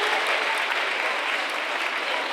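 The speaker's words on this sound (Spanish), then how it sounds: "Aplauso fuerte, que se vaya preparando." Steady, dense applause from an audience at a school Halloween festival, continuous clapping at an even loudness from start to finish.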